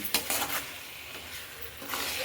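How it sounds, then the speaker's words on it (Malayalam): Avial, a Kerala mixed-vegetable dish, is stirred in a pot over low heat, giving soft scraping and clinking strokes with a faint sizzle in the background, close and fairly quiet. "ഒന്നുകൂടെ നമുക്കൊന്ന് ഇളക്കി കൊടുക്കാം"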